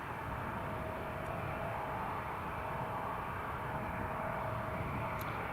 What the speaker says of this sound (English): That is the Air France taxiing past.